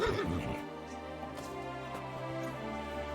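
A horse named Pebbles in Kingdom Come Deliverance 2 lets out one loud, close whinny that trails off into a sustained tonal fade, with no talking over it.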